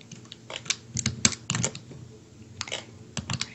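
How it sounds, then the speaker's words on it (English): A loud, clacky computer keyboard typed on up close, irregular runs of sharp keystrokes broken by brief gaps, with no voices over it. "Sorry, my keyboard is so annoying. I have a loud keyboard."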